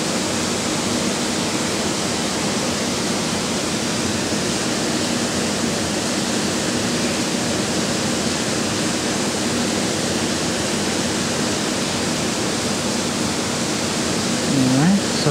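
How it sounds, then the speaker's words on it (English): A waterfall rushes close by at an outdoor wildlife filming location, a steady, loud, broadband roar that runs unbroken through the whole stretch without pause or rhythm. "we have a waterfall next to us, so it's"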